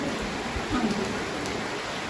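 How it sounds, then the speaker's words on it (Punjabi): Heavy rain pours down in a continuous, dense hiss of drops striking surfaces, loud and unbroken throughout with no clear thunder. "ਦੇਖੋ ਕਿੰਨੀ ਬਾਰਿਸ਼ ਆਉਣ ਰਹੀ ਹੈ"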